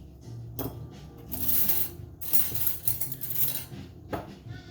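Metal surgical scissors clink and rattle against other surgical instruments in several bursts, close and crisp, with brief pauses between, while a veterinary surgery pack is being assembled.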